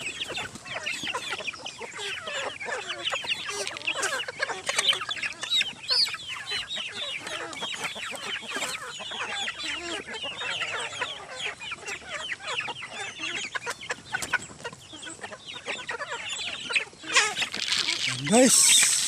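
Hungry chickens in a coop of large laying hens, a dense flock clucking and squawking continuously at close range, agitated, with a voice speaking faintly underneath.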